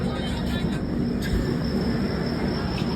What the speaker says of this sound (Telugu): ట్రైన్ స్టార్ట్ అయిపోతుంది.